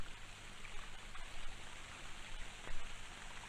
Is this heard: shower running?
yes